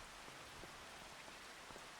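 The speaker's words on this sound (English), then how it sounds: "It's November and it's raining." Steady, even rainfall in Farming Simulator 25 on a November day at a farm, a dense continuous patter with no voices.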